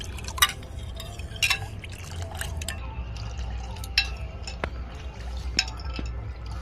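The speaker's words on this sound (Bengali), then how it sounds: "চিনিটাকে আমি ভালোভাবে গুলিয়ে নেব।" Sugar being stirred into watermelon juice, a spoon clinking and scraping against the container with soft liquid sloshing, several bright taps scattered over a low steady background hum.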